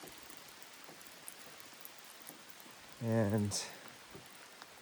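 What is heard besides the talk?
rain falling on a tarp and roof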